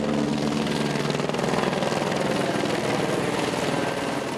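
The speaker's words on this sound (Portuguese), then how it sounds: "um helicóptero da PM sobrevoava o batalhão de choque" A military police helicopter flies over a riot police battalion, giving a steady, loud rotor and engine drone that holds evenly throughout with no voices.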